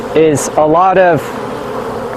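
Honeybees buzz in a hive box during a mite wash, a close, steady hum under a brief stretch of speech that carries on alone afterward.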